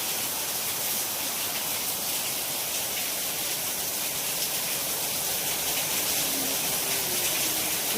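Heavy monsoon rain pours steadily, a dense continuous wash of water noise at an even loudness throughout, with no voices present.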